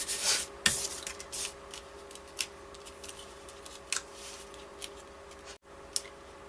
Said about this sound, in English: now I'll rub that down good